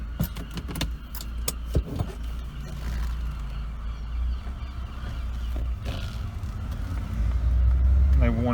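A Peugeot 206cc 1.6 petrol automatic sets off on a short drive: a few clicks and rattles, then a low engine rumble that builds louder toward the end.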